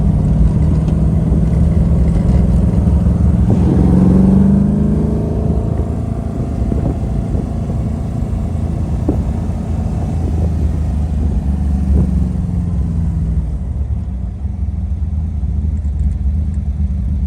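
Ferrari 250 GT California being driven, its engine a loud close rumble that swells and falls through revs with rising and falling tones as gears change, steady throughout with no talk.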